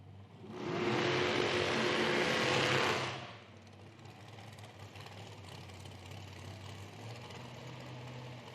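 Wingless injected drag racing car at an IHRA Outlaw Nitro Series event in Hebron, Ohio: a loud, harsh engine roar for about two seconds, then dropping to a rough, lumpy idle heard from a distance.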